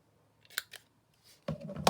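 Corner rounder punch clipping the corner of a sewing pattern envelope: a few short, sharp snips and clicks, close and fairly quiet, followed by a louder, firmer crunch near the end.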